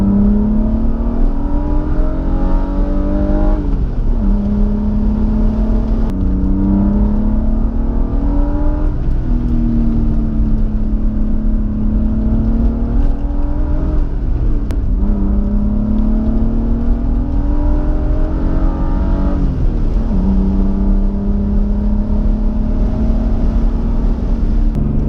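BMW M3 engine revving hard while drifting on a canyon road, loud and continuous, with the pitch repeatedly climbing and dropping as the throttle rises and falls, with no talking.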